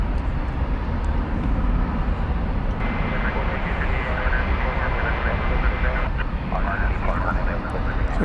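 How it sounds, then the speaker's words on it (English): A jet airliner, flight 2063 bound for Guadalajara, takes off from a DFW Airport runway, its broad engine roar sustained and close, with talk now and then over it. "leaves the runway, off goes Flight 2063 to Guadalajara."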